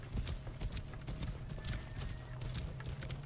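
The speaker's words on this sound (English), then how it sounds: "Get my faithful steed." Horse hooves clip-clop in a quick, steady rhythm in the Assassin's Creed Origins video game, close and clear, with faint game ambience behind the galloping steps.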